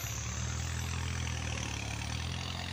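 A farm tractor engine idles steadily at close range during field preparation for cassava planting, giving a constant low rumble with no break and no talk.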